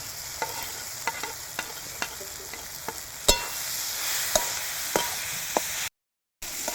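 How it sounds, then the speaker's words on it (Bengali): Prawns frying in oil in a pan for a prawn dal, with a steady close sizzle and regular clicks of a spatula stirring. Near the end the sound cuts out briefly, and no one speaks. "দিয়ে দেবো চিংড়ি মাছ ভাজা।"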